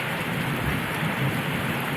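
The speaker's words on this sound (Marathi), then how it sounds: "वेगवेगळी जोरावरून लागत आहे आणि पाऊस येत आहे" Steady, dense rain falls continuously, a constant hiss of drops with a low rumble underneath, fairly close and even throughout.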